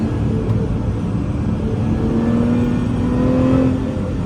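A Lotus Emira driving on the Pitt Race circuit gives a loud, steady engine drone with a thin whine rising slightly in pitch. The sound runs continuously with no voices.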